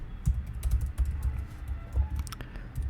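JavaScript code is typed on a computer keyboard in quick, uneven bursts of close key clicks and thumps that run through the moment without talking.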